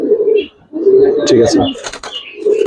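Giribaz pigeons in a loft give close, loud coos in short bursts, with a brief chirp and a voice talking between them.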